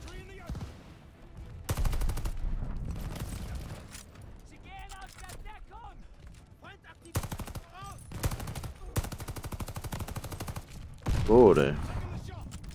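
Bursts of automatic gunfire in Call of Duty Vanguard, several loud sustained volleys separated by quieter gaps, with voices talking between and over the shooting.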